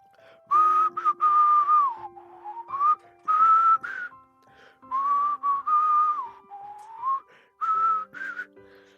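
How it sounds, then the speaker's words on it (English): Close, solo whistling of a melody, a clear tune in short phrases with pauses between them. "I know I can't whistle."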